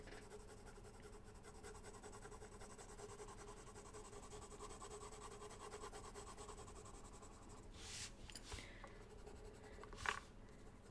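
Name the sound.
colored pencil coloring on paper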